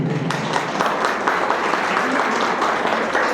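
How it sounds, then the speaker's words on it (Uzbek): A crowd claps loudly in an ovation at a first-grade alphabet celebration in a school, with dense continuous applause throughout. "Sizning guldiroz qarsaklaringiz ostida"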